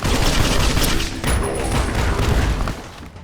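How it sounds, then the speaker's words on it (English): A grenade machine gun firing in the Fallout video game, a loud continuous barrage of booming launched rounds and explosions lasting a few seconds before tapering off. "let me use the last of the grenade machine gun"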